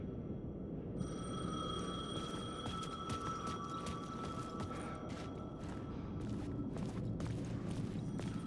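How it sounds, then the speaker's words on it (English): A payphone rings in the video game Alan Wake II, a sustained electronic ring entering after a second over a constant low rumble of ambience, with repeated bursts continuing to the end and no speech. "The payphone was ringing."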